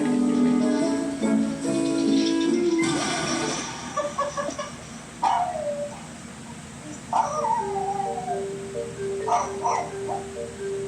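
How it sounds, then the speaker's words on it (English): Dogs meeting, a new dog and a small pug, with high wavering howls and whimpers rising and falling over several seconds, some yips, close by and fairly quiet. "a woman introduces her new dog to her cute little pug named Augie"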